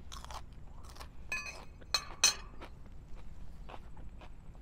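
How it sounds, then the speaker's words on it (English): A crunchy Candy Cane Chocolate Cherry pepper is bitten and chewed close up, giving a few crisp crunches and wet chewing sounds with no talk. "Super crunchy."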